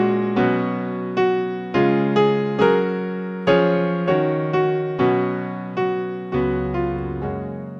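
A simple piano melody of single sustained notes, each struck and left to ring and fade, with a deeper bass note entering near the end.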